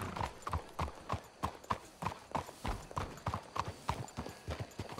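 A horse's hooves clop at an even trotting pace in a video game, each hoofbeat crisp and close, repeating steadily throughout.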